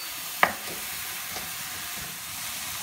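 Mushrooms and crisped garlic frying together in a pan for pasta, a faint, even sizzle with one sharp tap near the start and a softer one later.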